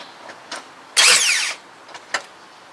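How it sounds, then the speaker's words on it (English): The starter motor on a ninth-generation Toyota Corolla spins in one short, sharp whirring burst, with a few faint clicks just before and after it, close by and otherwise quiet. "give it a quick kick with the starter"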